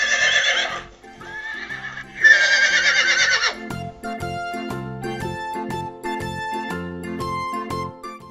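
Farm horse gives two loud, close, wavering whinnies, followed by several seconds of rhythmic tinkling, clip-clop-like beats and tonal music with no voices.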